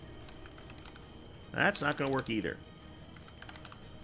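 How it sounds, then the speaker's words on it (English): Typing on a computer keyboard, a light continuous patter of quick key clicks running underneath, briefly covered by someone speaking in the middle. "My typing is horrible."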